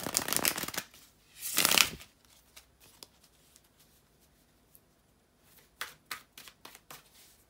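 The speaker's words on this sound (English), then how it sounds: "bear with me just a second, guys, to shuffle the tarot cards" Tarot cards riffle and shuffle in a few crisp bursts, followed by softer light taps and slides of cards being handled nearby.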